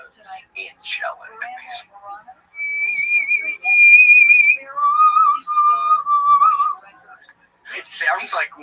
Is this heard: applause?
no